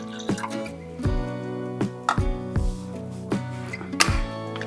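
Water is poured into strained tamarind pulp in a pan on the stove, heard as a series of faint, irregular drips and splashes.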